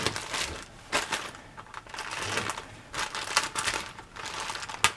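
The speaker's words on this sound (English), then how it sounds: "I'm going to be rattling some plastic on you" A plastic bag of 1955 Nomad model kit parts rattles and crinkles in close, uneven bursts of shaking, with no voices.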